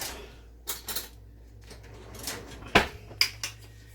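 Metal cutlery clinking while a spoon is taken out in a home kitchen during biscuit and sausage gravy cooking: a few light, quiet clicks and rattles scattered over a faint background.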